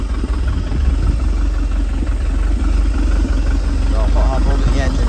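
The engine of a 1988 StingRay Supersport boat runs at a steady rumbling idle, loud and close, with a voice talking over it.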